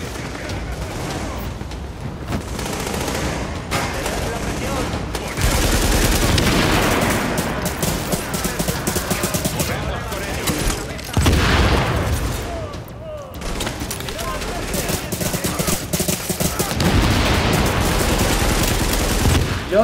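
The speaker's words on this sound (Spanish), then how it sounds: "¡Seguid disparando!" Gunfire in The Division video game: dense, continuous automatic bursts and booming shots from several weapons, loud and close throughout, with players shouting over the shooting.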